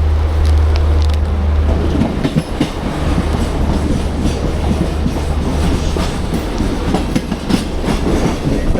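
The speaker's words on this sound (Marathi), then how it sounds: "आता फायनली मुंबई सेंट्रल स्टेशन आलं आहे" A train rumbles steadily past at Mumbai Central station with a rhythmic clickety-clack of wheels over a constant low drone, loud and close.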